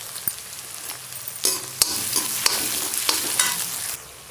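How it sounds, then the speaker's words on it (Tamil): Chopped onions fry in hot oil for a Tamil crab fry, sizzling continuously while a utensil stirs and scrapes the pan with sharp irregular knocks, close and fairly loud. "இப்போ வெங்காயம் நல்லா வதங்கிருச்சு"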